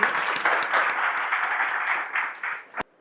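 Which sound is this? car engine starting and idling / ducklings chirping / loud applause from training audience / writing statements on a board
loud applause from training audience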